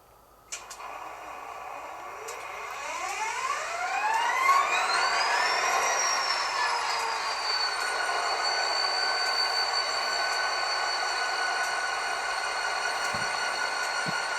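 A model HO-scale EMD GP40 diesel locomotive's sound decoder spins up with a rising whine that climbs in pitch, then settles into a steady, sustained drone.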